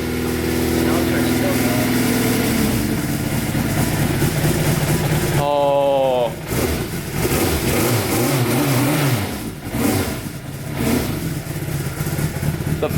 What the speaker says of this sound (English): The Suzuki Turbo runs, finally.